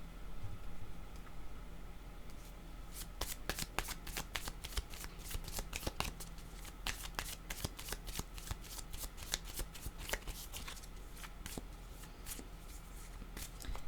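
Tarot cards are shuffled close by in a quick run of crisp riffling snaps that repeats steadily over a faint background hiss.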